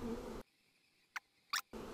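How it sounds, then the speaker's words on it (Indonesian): Angry bees swarming around a nest in Sumatra: Fate of Yandi give a faint, steady buzzing drone, framed by louder bursts of other game sound at the start and end, with two brief clicks in between. "Sarang lebahnya sih emang di luar jangkauan banget ya. Dan juga dipenuhi sama lebah-lebah yang marah."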